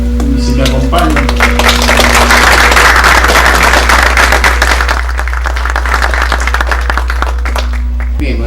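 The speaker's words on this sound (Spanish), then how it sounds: "Vamos a recibir al ingeniero un voto de aplausos" Loud, dense applause from an audience at a civil engineering lecture welcomes the engineer, a sustained wash of clapping with a steady low hum beneath and a faint tonal sound early on.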